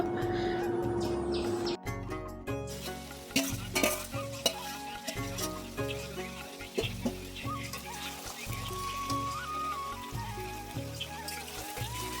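Chicken meat frying with onions in a pan, sizzling steadily while being stirred and scraped, with a faint patter in the background.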